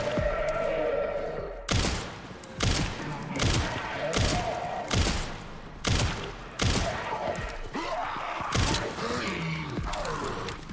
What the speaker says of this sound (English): Oh, there is more people shooting.